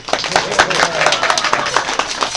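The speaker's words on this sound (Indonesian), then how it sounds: "Mau tepuk tangan." Scattered hand claps from a small audience at an Indonesian Independence Day night thanksgiving gathering with a wayang cangkem mouth-puppetry show, irregular and fairly close, mixed with voices.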